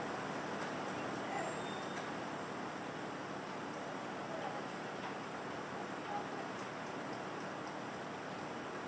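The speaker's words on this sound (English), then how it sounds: "Obviously, since it's raining," Rain pours during a thunderstorm in Japan, a steady, dense hiss that holds at an even level throughout with no distinct thunder claps standing out.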